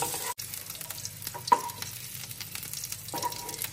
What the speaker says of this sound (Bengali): এখন গোটা পেঁয়াজগুলোকে লাইট ব্রাউন করে ভেজে তুলে নেব